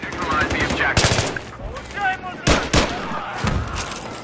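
Battlefield 3 gunfire crackles in quick automatic bursts and single heavy shots, close and loud, clustered in several volleys over a few seconds with a faint voice underneath.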